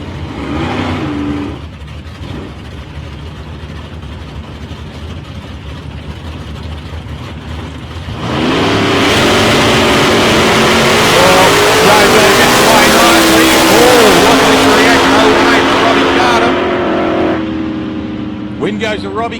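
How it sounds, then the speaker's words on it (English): A drag car with a big 427 Ford engine runs at the South Coast Nationals 2019 eliminations. Its rumble swells into a loud, sustained roar partway through, with an announcer talking over it. "Listen to that big 427 Ford engine under the bonnet."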